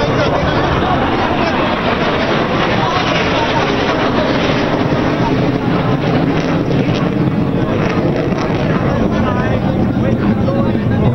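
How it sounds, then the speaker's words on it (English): An Indian Air Force bomber formation makes a flypast at an Air Force Day display. A loud, continuous jet roar fills the air throughout, with wind buffeting the microphone and a voice talking underneath. "Ladies and gentlemen, the bomb formation."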